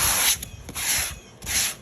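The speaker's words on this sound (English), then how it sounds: "Put both of the chairs, I'm sanding them down" Three bursts of dry, scratchy fine-grit sandpaper rubbing on a painted chair, each about half a second long, with short pauses between them, close up and fairly loud.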